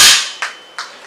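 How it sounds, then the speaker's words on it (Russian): A single sharp crack of a Gamo P900 air pistol shot at a target, followed by two faint metallic ticks a moment later. "Хронометр у нас загрузился, я стреляю по мишени."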